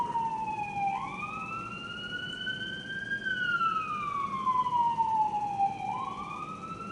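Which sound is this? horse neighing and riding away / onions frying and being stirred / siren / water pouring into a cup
siren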